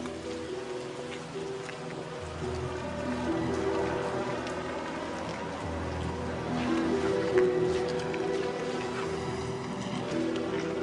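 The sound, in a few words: rain falling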